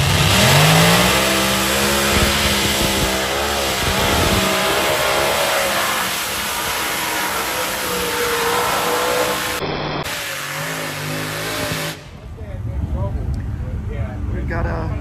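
A light modified class pulling tractor with 7,000 hp from several closely mounted engines on log manifolds revs loudly at a national tractor pulling championship, its engine pitch rising and falling in waves, with voices talking over it.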